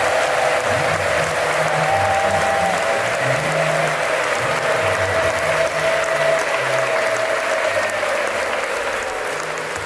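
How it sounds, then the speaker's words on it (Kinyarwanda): A church congregation claps together in sustained, dense applause that fills the room steadily for about ten seconds, with a low hum underneath, fading slightly at the end. "Twongeye duha Imana amashyi menshi cyane ko yaturinze katuyobora"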